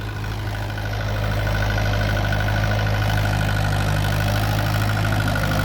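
Mahindra 575 DI tractor engine running on tapioca farmland with a 42-blade rotavator, a loud, close, steady diesel drone with a deep low throb that holds constant throughout.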